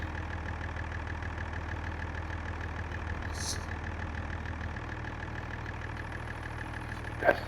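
A small Fiat tractor idles near a yard with a steady low, even engine drone throughout and a brief clatter near the end, with no talk.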